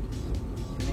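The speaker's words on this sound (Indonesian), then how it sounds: "Walah, tolnya macet." Traffic crawling along a jammed Jakarta toll road, a low steady rumble of car engines close by with faint swells as vehicles pass.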